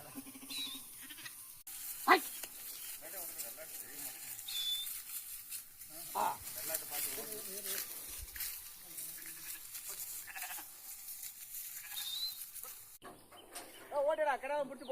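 Sembari goats at a goat market bleat several times, some calls loud and close, others fainter, amid ongoing human talk and background market noise.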